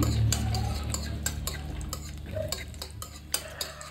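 Chopped almonds and cashews fry in ghee in a small pan, stirred with a spoon that scrapes and ticks against the metal in quick, repeated strokes over a low sizzle, close up.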